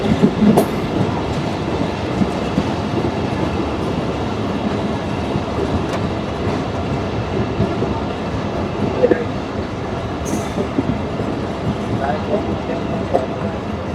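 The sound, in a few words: Mongla commuter train entering Fultala railway station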